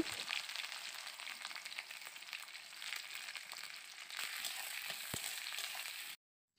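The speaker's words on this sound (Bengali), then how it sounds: "তো এবার দিয়ে দেবো কেটে রাখা পেঁয়াজগুলো। পেঁয়াজটা আমি হালকা ভাজা ভাজা করে নেব।" Sliced onions frying in oil with nigella seeds in a pan, a faint, steady crackling sizzle close by that stops abruptly near the end.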